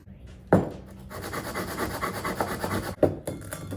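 A belt sander works over exhaust parts on a fabrication bench, giving a close, rough rasping scrape with a couple of sharp knocks as the pieces are set down and repositioned.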